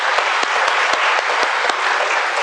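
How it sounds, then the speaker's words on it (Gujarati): An audience at a community gathering bursts into loud, sustained applause, a dense wash of clapping with a few sharper individual claps standing out near the front. "એક જોરદાર તાળીઓ સાથે તેમનું અભિવાદન કરીશું"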